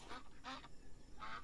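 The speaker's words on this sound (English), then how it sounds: "The duck." A duck quacking in the survival video game Night of the Dead, three short, faint nasal quacks spaced apart.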